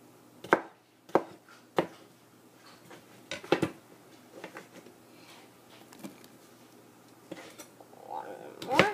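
Knife chopping vegetables on a board for chicken soup, irregular close thuds spaced apart, with faint background sounds between cuts.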